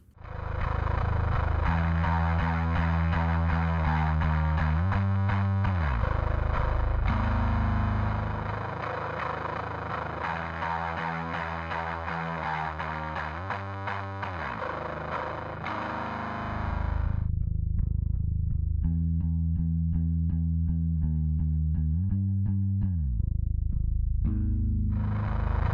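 Heavy, distorted bass guitar played through one amp, captured with two microphones blended with a clean low line signal: a thick, sustained growling riff that runs continuously, breaks off briefly, then resumes.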